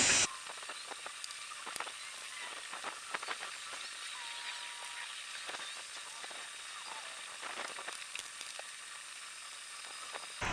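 Spray paint being applied to a water softener cabinet: close, repeated hissing bursts of aerosol spray, some short and some held, with quiet gaps between them.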